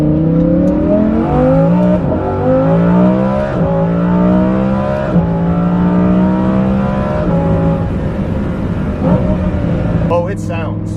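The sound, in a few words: Lamborghini Huracan Performante with Kline-Innovation exhaust revving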